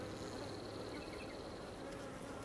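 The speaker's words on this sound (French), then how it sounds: "Il y a beaucoup d'abeilles qui me tournent autour" Honeybees hum around an open beehive in a dense, continuous buzz that sounds close and stays steady throughout.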